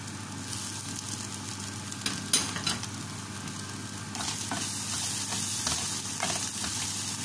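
Hotdog and fried egg fry in a pan for fried rice. A steady moderate sizzle runs throughout, with a few stirring scrapes and clinks near the middle and a slightly louder crackle toward the end.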